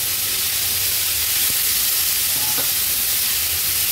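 A constant hissing sizzle of mixed vegetables added to a hot oil tempering fills the clip, with a couple of faint clinks of a utensil.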